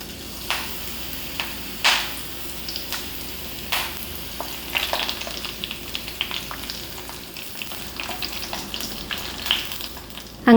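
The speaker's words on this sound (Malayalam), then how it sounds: "പച്ചമുളകും വറുത്തെടുക്കാം." Curry leaves and green chillies deep fry in hot oil as a garnish for Kerala beef deep fry, a continuous soft sizzle broken by sharp crackles and pops, no voices.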